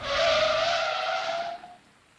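A car's tires squeal in a long, loud skid under hard braking, a sustained high screech lasting over a second before cutting off into quiet.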